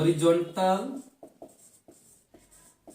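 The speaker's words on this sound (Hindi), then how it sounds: "इधर पे लिखते हैं" A brief burst of talk gives way to a series of short, crisp taps and strokes of writing on a board during a physics lecture, spaced irregularly and close by.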